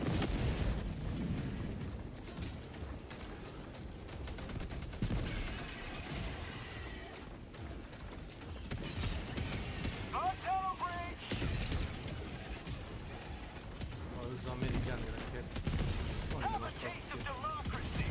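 Continuous rapid gunfire from a minigun in a video game, sustained and dense throughout, mixed with booms and game effects, with speech-like voices over the top.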